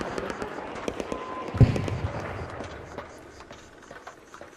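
Distant sniper rifle shots in the shooter game Arc Raiders: a muffled boom near the middle stands out amid scattered faint cracks and game ambience, with a voice speaking briefly.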